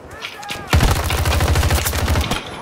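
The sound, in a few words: gunfire in video game Battlefield 2042 battle royale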